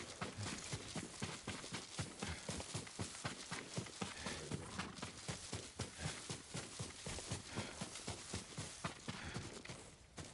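A horse gallops in the video game Ghost of Tsushima, its hooves pounding in a fast, even rhythm for around ten seconds at moderate, fairly distant loudness.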